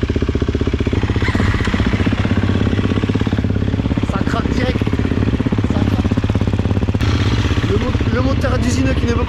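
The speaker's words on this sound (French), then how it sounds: "Ça fait chauffer la moto avant de récupérer le contrôle." A motocross motorcycle engine warms up at a race meeting in Naves, idling with a steady rapid thrum that fills the whole clip, close and loud, with occasional blips, while voices chatter faintly in the background.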